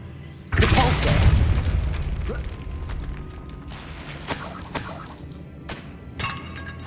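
A Depulso force spell is cast in Hogwarts Legacy: a sudden loud burst followed by a rumbling, crackling tail. Clattering and creaking debris trails off over several seconds, then a softer second impact arrives near the end.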